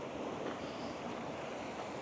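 A waterfall in a shaded canyon gives a steady, dense rush of falling water that stays even and fairly loud from start to finish, with no voices.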